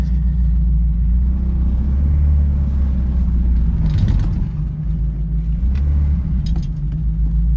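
A Morris 1300, newly revived from a barn, sits idling with a steady, low rumbling throb that stays even and close throughout, with no voices.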